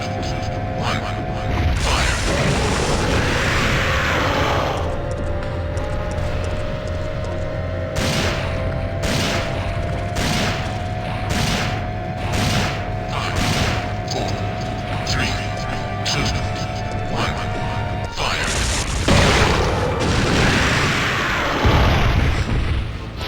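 Heavy weapon fire in the Resident Evil 3: Nemesis video game, a series of loud rhythmic booms and mechanical bursts pounding through a hallway over a steady droning hum, with a voice speaking.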